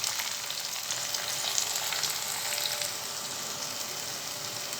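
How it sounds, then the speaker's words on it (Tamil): Steady, dense sizzling of finely chopped onions frying in a pan, loud and continuous with a crackling texture throughout. "இப்போ நல்லா வெங்காயம் கொஞ்சம் ஓரளவுக்கு வதங்கி வந்துடுச்சு"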